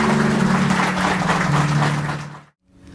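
Guests clap at an evangelical wedding ceremony, a dense, loud burst of applause lasting about two and a half seconds before cutting off abruptly, with a low sustained hum beneath it.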